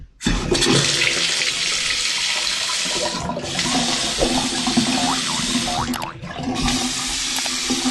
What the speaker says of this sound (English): We have a running sink.